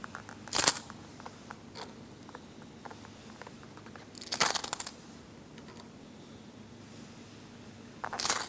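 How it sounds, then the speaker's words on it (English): Three bright metallic clinks of coins dropping, spaced a few seconds apart over a quiet background with faint small taps between them. "They counted out 30 coins."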